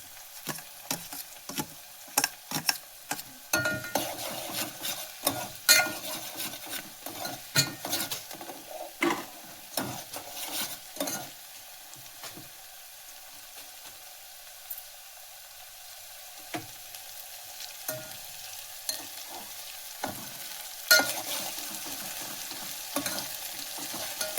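Green onion and garlic fry in a pan with a continuous light sizzle, while a utensil scrapes and stirs in repeated sharp clattering strokes, busy early on, quieter midway, then resuming, with no talking.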